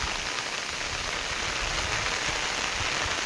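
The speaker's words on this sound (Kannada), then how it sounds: "ಮಳೆ ಇನ್ನೂ ಜಾಸ್ತಿ ಆಗ್ತಾಯಿದೆ," Steady heavy rain falls across a garden with mangosteen and other plants, a dense, even hiss of drops on leaves and ground that keeps up throughout, with no voices.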